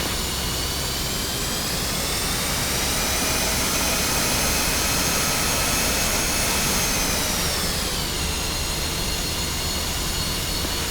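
An F-5E jet engine whines steadily and loudly during taxi in the DCS flight simulator, a continuous high roar whose pitch dips slightly near the end, with no voices.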